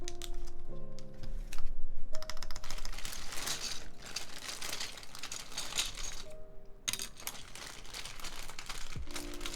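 Typing on a custom mechanical keyboard, testing its stabilizers, gives a dense run of close, crisp key clacks and rattling thocks with brief pauses, and no voices.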